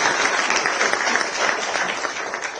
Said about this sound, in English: I would like all of you to give a great round of applause for Indian Air Forces.